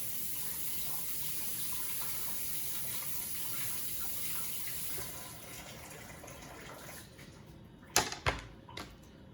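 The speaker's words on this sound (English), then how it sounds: "Do a little rinse on those tomatoes." Running tap water rinsing tomatoes at a kitchen sink, a steady close gush for about five seconds that then softens, ending with a few sharp knocks and clunks.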